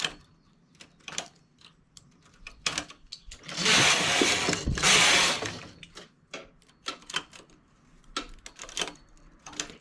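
A knitting machine works a cable-stitch pocket in Super Bebê wool, scattered clicks and clacks around one loud sliding rush of the carriage across the bed, close by.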